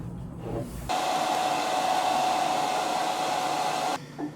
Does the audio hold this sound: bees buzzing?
no